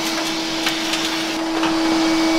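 A shop vacuum runs with a continuous steady whine and roar while cleaning up, a faint rattle and clatter briefly showing as a screwdriver gets sucked into the hose; no talking.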